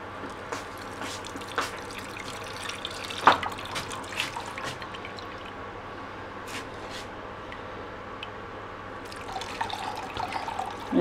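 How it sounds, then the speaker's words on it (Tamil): Homemade buffalo ghee poured slowly through a steel filter makes soft liquid trickles and scattered drips, quiet and close, with occasional light metallic taps. "கொஞ்சம் கொஞ்சமாக பார்த்து ஊற்றுங்க"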